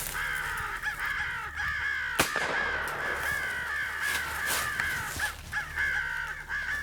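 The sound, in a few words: crows cawing during crow hunt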